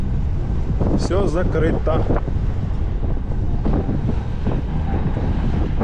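Mild, not-cold December wind gusting along the Adler–Sirius route in Sochi, a steady rushing roar close on the microphone throughout, with a person talking over it briefly.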